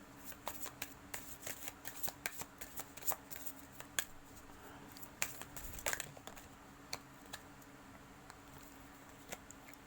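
Tarot cards being shuffled close up, a quiet run of crisp riffling flicks and taps in irregular bursts, with no talking.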